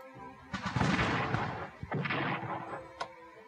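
Cannon fire in the Scourge of War American Civil War strategy game, two heavy booming blasts a second or so apart with rolling rumble, followed by a sharp crack, loud and close.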